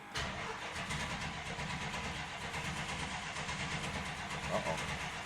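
A 1966 Plymouth Belvedere's engine cranks steadily and loudly under the starter, a continuous rhythmic churning that does not catch.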